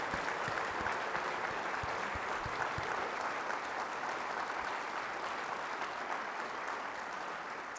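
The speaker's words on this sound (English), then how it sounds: "But a huge applause for Yoshi Nakamura." A gala audience applauds steadily and fairly faintly through the whole stretch, a dense wash of many hands clapping with no speech over it.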